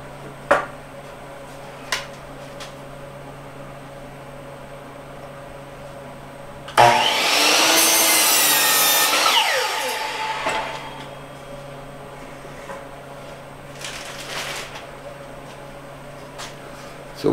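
A power saw cuts 2x4 lumber to length for a shop storage cart, with one loud whining cut lasting about three seconds. Quieter workshop knocks come before and after it.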